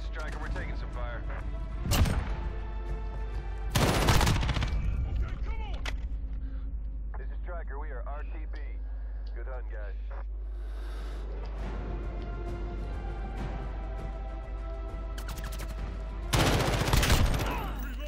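Gunfire crackles in the Call of Duty Modern Warfare beta, loud bursts coming in separate clusters with quieter battlefield noise and radio-style voices in between.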